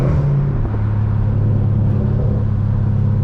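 Catless exhaust of a Dodge 392 Scat Pack rumbling with low burbles while cruising back roads, a loud, steady, deep drone without talk.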